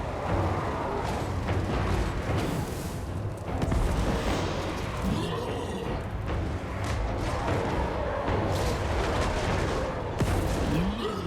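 Skull Cannon artillery in the Total War Warhammer 3 video game fires amid a dense battle din, with rumbling booms and crackling impacts that keep up without a break.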